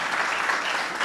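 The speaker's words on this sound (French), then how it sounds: "Je pense qu'on peut applaudir nos experts qui ont partagé" Steady audience applause for a panel of experts at the end of a discussion on generative AI, dense and even throughout, with no voices on top.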